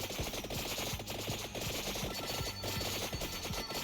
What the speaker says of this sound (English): You move around while your weapons auto-fire